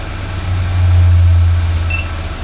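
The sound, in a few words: 1995 BMW E36 318i engine running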